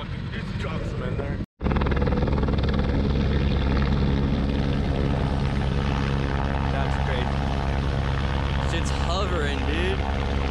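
A helicopter hovers nearby during a desert dirt-bike airlift in Ocotillo Wells, its loud rotor thump and engine whine steady after a brief cut, with people talking over it.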